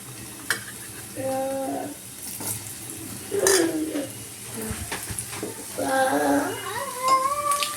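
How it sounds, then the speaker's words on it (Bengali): Potatoes fry lightly in a pan with ginger, a soft sizzle broken by stirring and clinks of a utensil against the pan, while a voice sounds briefly at times. "আলুটাকে আমি হালকা করে একটু ফ্রাই করব।"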